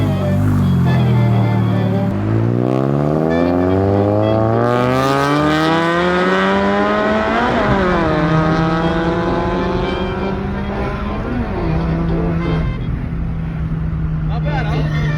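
A supercharged car accelerating hard on a ride, the engine revving up through rising pitch sweeps with gear changes and a loud, close, sustained drone, with voices faintly underneath.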